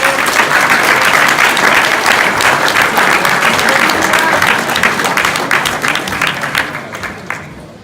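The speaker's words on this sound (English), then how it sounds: "can we give a round of applause for him?" Sustained audience applause at a convention party, dense steady clapping from a large crowd that carries on for several seconds and thins out slightly toward the end.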